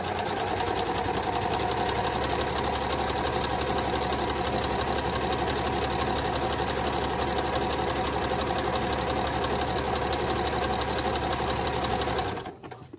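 A sewing machine runs steadily, stitching garment lining with a stretch stitch. It is a close, loud, continuous mechanical whir with rapid needle rhythm for about twelve seconds, then stops abruptly.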